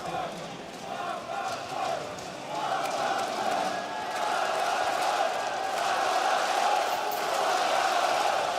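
Large esports arena crowd roaring and cheering during a timeout at a Counter-Strike playoff semifinal, a dense sustained wall of voices that swells louder midway and holds, with a caster talking over it.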